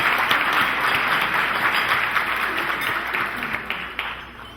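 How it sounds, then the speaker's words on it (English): Dense, continuous applause from a large audience at a political event honoring state senators, loud and sustained, gradually easing toward the end. "If you'll give them a big round of applause."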